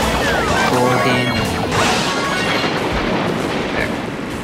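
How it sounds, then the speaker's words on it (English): A bomb explodes in the Mario Kart Tour racing game, a loud, sustained crashing blast that fills the whole moment with dense, roaring noise. "The bomb beat me to the finish line. He ran. Boom."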